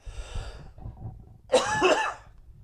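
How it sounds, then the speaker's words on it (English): A single harsh cough rings out close to the microphone, preceded by a quieter throat-clearing rasp. "Pardon my cough."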